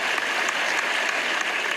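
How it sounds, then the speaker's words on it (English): Steady, dense applause from an audience, added to a recital performance, forming an even wash of many clapping hands throughout with no pauses or voices. "you could add applause"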